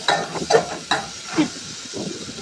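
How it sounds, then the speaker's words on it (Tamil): Tomatoes sautéing in a pan with tamarind, curry powder and salt for a fish curry, giving a steady sizzle broken by the scrape and clatter of stirring at a moderate level. "தக்காளி போட்டு இப்போ வந்து வதக்குறோம்"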